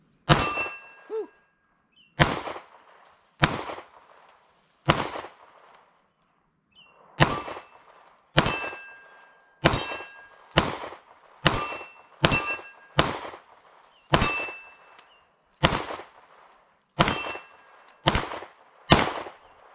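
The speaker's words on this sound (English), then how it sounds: "we're going to fire off the Sig first. We got our 4 steel targets out here at about 10 yards." A Sig M18 pistol fires at four steel targets about 10 yards away outdoors, with sharp reports spaced unevenly, sometimes in quick pairs, each trailed by a ringing metallic clang from the steel plates.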